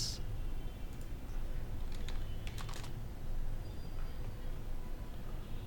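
Quiet computer keyboard typing as a search for mountain PNG images is entered, light irregular key clicks over a steady low hum.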